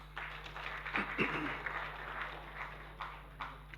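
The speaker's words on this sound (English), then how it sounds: "Please, let's applaud him one more time" An audience at a National Assembly public hearing ahead of the 2027 polls applauds in a faint, distant, sustained wash of clapping with a few sharper claps standing out.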